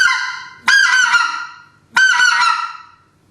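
Two crisp, high-pitched honks blown on a specklebelly goose call, each opening with a sharp burst of air and trailing off, loud and close with a short pause between them.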